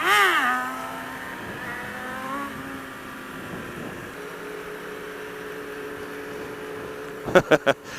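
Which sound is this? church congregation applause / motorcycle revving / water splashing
motorcycle revving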